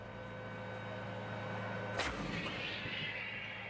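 A military howitzer, an artillery gun on an M109A7 Paladin chassis, fires once mid-clip with a sharp, loud blast followed by a rolling, fading rumble over a steady engine-like background hum.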